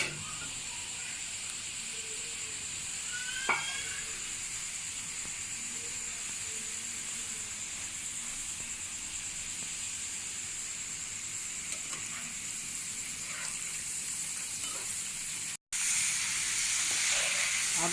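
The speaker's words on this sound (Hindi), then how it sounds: "इनको फ्राई नहीं करते, बस गरम तवे के ऊपर इसको सेक देती हूँ।" A zinger burger patty sears on a hot tawa griddle, giving a steady, soft sizzle and hiss that runs unbroken and fairly quiet, with a brief louder clatter near the end.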